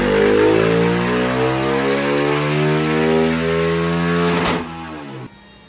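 A 230cc motorcycle engine fires up for the first time after tuning and revs steadily, a loud close harmonic drone rising and falling, then cutting off abruptly near the end.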